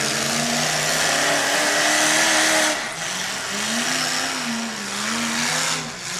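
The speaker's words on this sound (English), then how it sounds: "God, that truck sounds great." Demolition derby truck engine at a Minnesota track, a loud, close rumble that rises and falls in pitch as the throttle is worked, revving in uneven surges.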